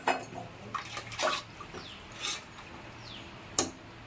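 Water poured from a pot into tomato rice in a cooking pan, with several short splashing, trickling bursts, close and fairly quiet, no talking.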